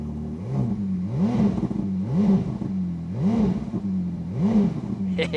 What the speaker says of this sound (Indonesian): Kita harus masuk ke mode yang mesinnya menyala.